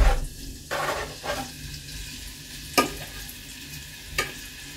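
Diced pork fat sizzles in a frying pan for borscht, a soft steady hiss broken by a few sharp stirring scrapes and clinks, close and alone.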